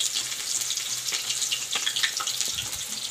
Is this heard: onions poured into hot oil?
yes